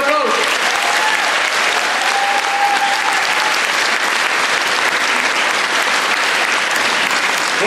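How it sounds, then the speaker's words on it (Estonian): Loud, dense audience applause at a school dance competition, continuous clapping held at full strength throughout, with a voice briefly audible at the start. "see on kõik suur aplaus"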